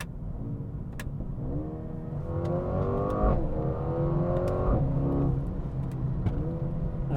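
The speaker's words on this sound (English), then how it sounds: "Just listen to a couple gear shifts here." A Mercedes-AMG A35's engine climbs in pitch and drops abruptly with each quick dual-clutch gear shift, several upshifts in a row heard from inside the car, with no speech over it.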